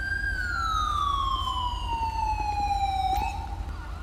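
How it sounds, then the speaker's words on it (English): A police Ford Explorer siren in GTA V with the LSPDFR mod wails loud and close, one long falling tone that cuts off abruptly as the siren is switched off, under a low engine hum. "I'm going to turn my siren off."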